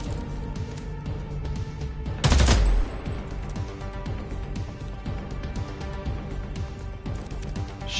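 Rapid automatic gunfire from Homefront The Revolution, a steady stream of shots throughout with one heavier, louder burst partway through, with no talking.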